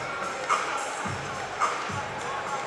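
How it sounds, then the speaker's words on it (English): Arena crowd at a Cincinnati Bearcats men's college basketball game against Arizona State in Fifth Third Arena, a steady distant murmur with a couple of brief swells and a faint low thump or two. "It's quite the mood swing there from this crowd in Fifth Third Arena."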